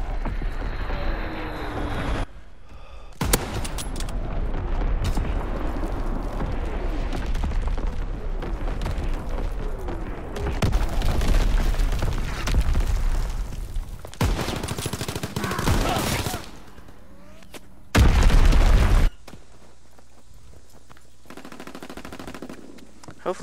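A ship's primary artillery battery in Call of Duty WW2 online multiplayer fires in loud, sustained barrages with rapid gunfire and booming explosions, continuing for most of the stretch before cutting to quieter moments and a final heavy blast.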